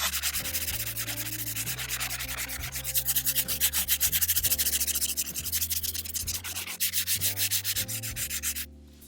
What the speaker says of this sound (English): I'm going to go ahead and start with the 80 grit